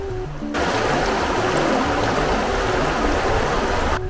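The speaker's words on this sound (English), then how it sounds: "coming to you once again from the banks of the Gros Ventre River in Grand Teton" The Gros Ventre River in Grand Teton National Park flows past its banks in a steady, close, full-bodied rush of water that holds an even level throughout, with no voices.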